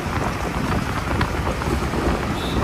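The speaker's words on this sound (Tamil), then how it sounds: "மழை வந்து ஸ்டார்ட் ஆகிடுச்சு" Heavy rain falling during a road trip through the hills near Lonavala, a dense, loud, steady hiss with no breaks, close and alone with no voices.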